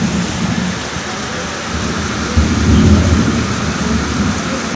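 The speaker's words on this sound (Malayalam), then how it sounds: "മഴ നല്ല രീതിയിൽ രണ്ടാമത്തെ പ്രാവശ്യവും തോന്നിട്ട് വീണ്ടും പെയ്യുവാണ്" Heavy rain pours down again in a steady, loud roar, with a low rumble swelling midway through like distant thunder. No voices are heard.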